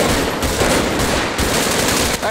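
Dense, continuous automatic gunfire in a role-play shooter game, a steady loud barrage of overlapping shots with no pauses.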